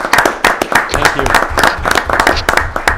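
Applause at a town plan commission meeting, a room of people clapping steadily and fairly loudly while a voice briefly speaks over it.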